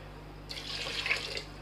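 About two and a half glasses of water splash into a cooking pot of spiced chicken for shami kabab, a bright, close pouring stream that starts suddenly and runs for about a second, with no speech.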